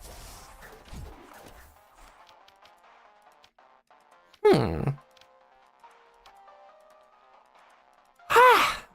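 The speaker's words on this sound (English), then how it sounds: "that was a yawn" Two drawn-out yawns from one person, each a breathy vocal exhalation that rises and falls in pitch, heard close and fairly loud over faint background music.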